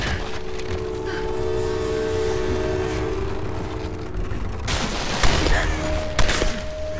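Enemy gunfire rakes toward the player in Tomb Raider, scattered volleys and sharp shots breaking out over a steady background rumble, with sudden louder bursts toward the end.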